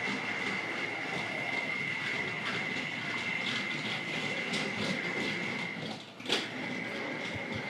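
A Tri-ang Hornby R.152 BR blue model diesel shunter runs with R.19 plate wagons, making a close, steady motor rasp and whine with light clicking. A brief knock comes near the end.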